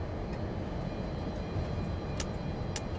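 The engines of a Boeing 747-200 taxiing to the runway in a flight simulator give a low, steady, rumbling drone, faint and continuous, with a couple of brief clicks.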